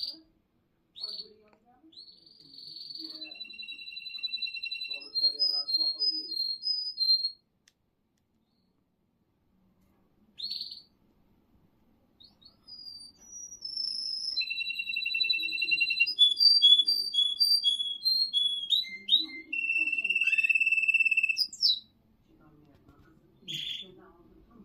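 A pet canary sings in bursts of high, varied trills and whistled notes, separated by pauses of silence, close and clear, with some quiet human talk in places.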